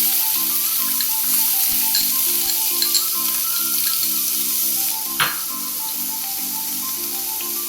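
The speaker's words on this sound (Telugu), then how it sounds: "కొంచెం నూనె వేడెక్కిన తర్వాత ఒక కప్ ఆనియన్" A cup of onion frying in about three spoons of hot oil for vegetable pasta gives a loud, steady sizzle throughout, with a soft melodic tune playing underneath.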